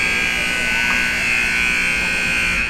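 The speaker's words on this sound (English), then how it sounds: "there's the buzzer for the first period" An ice hockey arena horn signals the end of the first period, a loud, sustained electric buzz that holds steady for several seconds with no talk over it.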